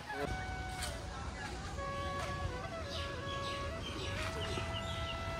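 Young native village chicks on a poultry farm peep repeatedly in high, thin overlapping calls, several birds at once, over a constant low background murmur.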